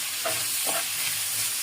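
Onions frying in a pan, a steady close sizzle with two brief scraping stirs near the start, moderately loud and with no voices.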